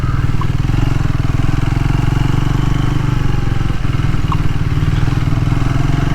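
A Triumph Tracker 400 motorcycle engine drones steadily and loudly while riding, with a faint click or two that could be gear shifts and no talking.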